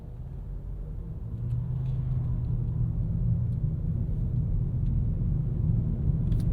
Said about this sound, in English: We're still in sport mode as well. That's not helping our fuel economy, keeping this thing revved higher.